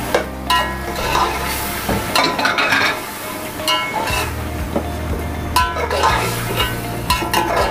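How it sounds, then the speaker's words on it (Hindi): Potatoes and yogurt go into a pot for potato tahari rice and are stirred, with a scraping spoon and soft sizzle under a low steady hum, loudest in short bursts. "दही भी साथ ही जाएगी इसके। ये आलू भी डाल रही हूँ मैं।"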